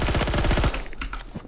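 Rapid automatic gunfire from a Colt SMG 633 in an online shooter game, a dense burst of close, loud shots for most of a second, then quieter scattered game sounds.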